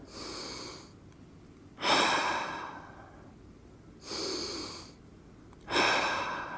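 Slow, deep breaths during a hip-opening leg-lift exercise class: four long, airy breath sounds alternating inhale and exhale, evenly spaced and close to the microphone, with no talking.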